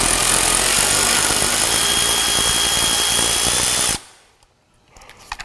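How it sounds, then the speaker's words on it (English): A power tool backs out a 10 mm bolt on a 2022 Ford Maverick. It whirs loudly and steadily for about four seconds, then stops abruptly, leaving faint clicks and clatter. "Just back this bolt out."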